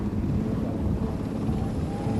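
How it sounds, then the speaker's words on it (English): A helicopter landing at the 1989 Boston University commencement at Magazine Beach, its rotors giving a loud, steady low rumble with gusty rotor wash that continues throughout. "we're being blasted by the wash from the rotors on the helicopter"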